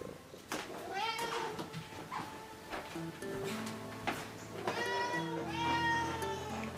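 A house cat gives several close, drawn-out meows in a row, with a person's voice mixed in alongside the cries.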